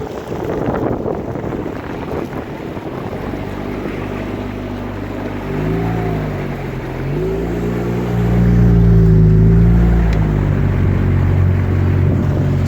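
A boat engine runs rough and bogs down, a steady droning hum that wavers in pitch, then swells lower and heavier near the end against a background of wind and water noise.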